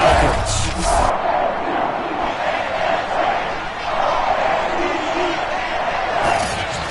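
Steady stadium crowd roar from a Madden NFL game as the Baltimore Ravens face the Atlanta Falcons, a continuous loud wash of cheering with brief swells, heard on its own without commentary.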